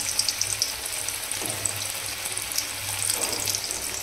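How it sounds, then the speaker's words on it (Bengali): Long eggplant, split lengthwise and quartered, frying in a pan: a continuous close hiss and crackling sizzle of hot oil with small pops, heard alone without talk. "আমি এখন ভাজছি বেগুন"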